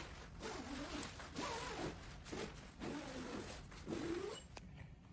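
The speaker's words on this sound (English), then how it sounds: "I'm just gonna tip my mattress over, zip it shut" A zipper is drawn shut around a mattress storage bag in a series of steady rasping pulls, about five strokes in a row, close and fairly quiet with no talk.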